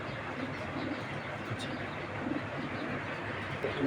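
Large grizzle racing pigeons coo softly in low, intermittent bursts within a steady, noisy background hum.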